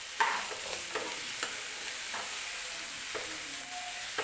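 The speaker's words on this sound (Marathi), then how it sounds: "चवीनुसार मीठ टाकून घ्यायचं आहे भाजीत आणि परत असं छान मिक्स करून घ्यायचं आहे" Cabbage sabzi being stirred with salt in a hot pan: a soft continuous sizzle with occasional spatula scrapes and taps, fairly quiet and close, with no voices.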